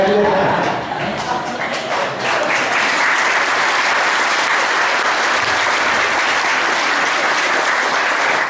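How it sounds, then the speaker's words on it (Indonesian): A crowd at a youth meditation session breaks into loud, dense applause that sustains evenly for several seconds, with a voice briefly audible at the start. "Itu tepuk tangan itu memberi tanda"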